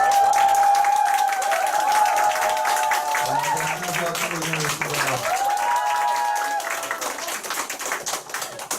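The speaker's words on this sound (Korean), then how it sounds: "큰 박수 부탁드리겠습니다." Crowd applause runs throughout under loud music with sustained tones, the clapping dense and continuous from start to finish.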